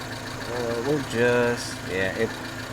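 A Subaru Sambar's small engine idles with a steady low rumble, its pitch rising and falling slightly as the revs drift, while someone talks over it.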